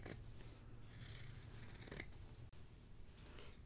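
Scissors snip steadily around the sewn seam allowance of fabric for a shark-shaped Christmas stocking, a continuous close crisp cutting and rasping with brief pauses, no talking.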